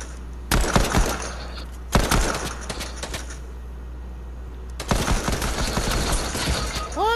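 Fortnite Chapter 2 gunfire rattles in three loud, rapid bursts of shots, separated by brief lulls over a constant low game hum.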